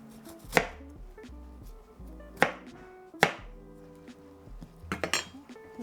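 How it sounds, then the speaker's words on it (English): Fruit being cut into quarters with a knife on a board while making jam, four sharp chopping knocks spaced irregularly with a quicker cluster at the end, over soft kitchen background. "I'm gonna cut them in 4 pieces"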